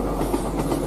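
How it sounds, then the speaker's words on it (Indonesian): A passing train rattles by at night, a steady close rumble of wagons with rhythmic clickety-clack of wheels over rail joints, continuous and fairly loud across the short stretch. "dari arah berlawanan kita datang lagi kereta"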